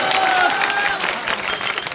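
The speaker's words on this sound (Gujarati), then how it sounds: "એમના માટે જોરદાર તાળીઓ થઈ." An audience claps for a bhajan singer at a large night gathering of farmers, a burst of dense applause with crowd noise, fairly close and loud, ebbing slightly over two seconds.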